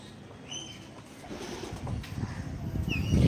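Pigeons coo in soft, low repeated calls, mixed with a few higher chirps, against a background rumble that swells toward the end; no one speaks.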